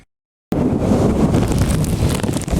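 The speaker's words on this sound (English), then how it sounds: "You can see there's just a little bit of wind out here at this time." Outdoor wind during a January tornado event in Sarasota buffets the microphone in a loud, continuous low rumble that starts abruptly after a brief silence and keeps up with slight surges until the end.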